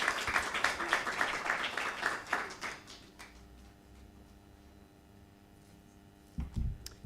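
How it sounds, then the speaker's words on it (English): Audience applause at a forum welcoming a banking executive to the stage, a burst of clapping that fades after about three seconds into quiet room tone, with a few faint claps and knocks near the end. "A round of applause, ladies and gentlemen."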